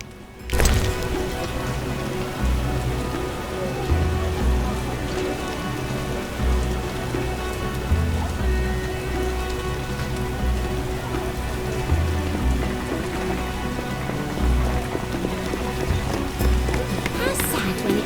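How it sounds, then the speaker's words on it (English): Steady rain pours on surfaces in The Witcher video game, a dense, even hiss with faint footsteps running through it, lasting throughout at moderate volume. "How sad when it rains."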